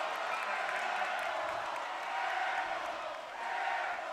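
The Carroll Saints student body at a college basketball championship game in Helena roars in a dense, sustained crowd wash after an air ball, loud and continuous with a slight dip near the end, under faint commentary.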